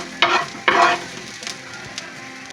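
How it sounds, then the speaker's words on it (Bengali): Grated coconut frying in ghee for a sweet semai dish, with two loud bursts of sizzling as it is stirred or dropped into the pan, then a quieter hiss with faint clinks. "আমরা কিছু নারকেল ভেজে উঠাবো।"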